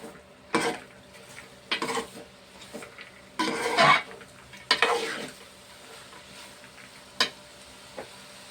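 Food being stirred in a cooking pot, with a series of spaced metal scrapes and clatters of a spoon against the pot over a low background.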